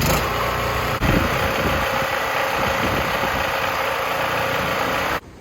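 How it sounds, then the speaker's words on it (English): A generator runs at a steady, loud idle with a constant droning rumble, powering the pump of an Intex above-ground pool. The sound is near and continuous, then cuts off abruptly at the end. "I gotta crank the generator back up"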